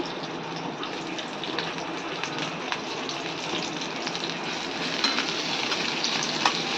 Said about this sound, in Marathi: आपण प्रथम कांदा याच्यात टाकणार. कांदा भाजून घेणार आहे जरा.